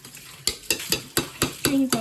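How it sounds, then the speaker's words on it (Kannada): A spoon stirs grated coconut into sweet pumpkin palya in a pan, making about seven close, rhythmic scraping strokes with a faint sizzle underneath and no voices. "ಕಾಯಿ ತುರಿ ಹಾಕಿ ಎಲ್ಲ ಮಿಕ್ಸ್ ಮಾಡಿ"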